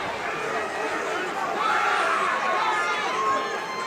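Fans at an XFC mixed martial arts event in Knoxville, Tennessee roar and cheer on their feet, a dense crowd swell rising in the middle, with a commentator's voice over it.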